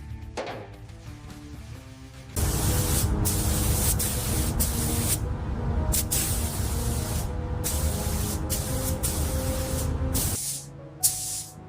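Spray gun misting a coat of paint onto a panel of a Lotus Evora, a loud steady hiss running for several seconds with brief breaks, close and alone.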